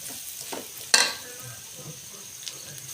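Scrambled egg with coriander leaves stirred in a hot pan, a soft frying sizzle with scraping strokes and one sharp metallic clink of the utensil against the pan, close and fairly quiet.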